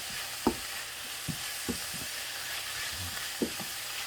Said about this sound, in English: Just cooking this cabbage down